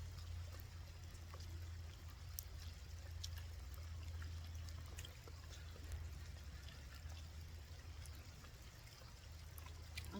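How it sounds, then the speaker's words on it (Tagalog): Rain falling beside a river during a riverside meal, a faint, steady hiss of drops with scattered sharper patters over a constant low water rush, no voices. "malakas yung patak ng ulan"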